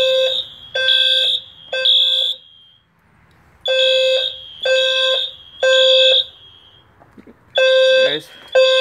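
A System Sensor SCR fire alarm horn sounds during an indoor system test, blaring in loud, close, rhythmic honking bursts with short gaps between them. A brief voice can be heard near the end.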